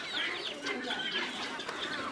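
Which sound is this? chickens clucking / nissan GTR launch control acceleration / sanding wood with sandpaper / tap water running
chickens clucking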